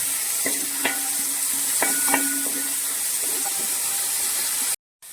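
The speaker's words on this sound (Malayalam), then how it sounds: "അതിലേക്ക് നമുക്ക് ഈ സവാള ഒന്ന് വാടാൻ വേണ്ടിയിട്ട് നമുക്ക് കുറച്ച് ഉപ്പിട്ട് കൊടുക്കാം നന്നായിട്ട് വഴറ്റണം" Sliced onions sauté with salt in a frying pan, a steady close sizzle under light scraping as they are stirred. The sizzle cuts out abruptly just before the end, and nobody talks.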